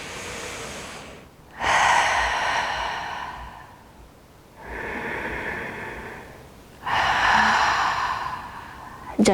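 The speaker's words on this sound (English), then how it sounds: "Take a couple of deep breaths more." Slow, deep breaths during a beginners yoga session for back mobility, three long airy inhales and exhales in a steady rhythm, close and fairly soft, with quiet pauses between them.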